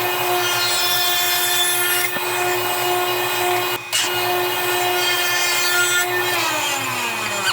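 Steady hand sawing through wood for a keepsake box, a continuous close rasping stroke rhythm with a brief pause midway and no talk.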